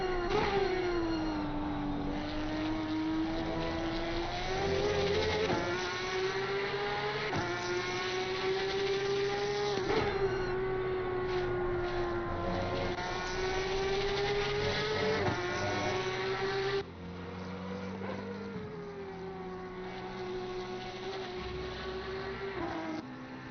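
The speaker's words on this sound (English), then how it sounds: "Those Post Cup engines do sound very, very good" Post Cup race car engines in a sim racing league race give a sustained, high, droning whine with rising and falling pitch through gear changes. Several cars are heard together, loud and steady, with no talk.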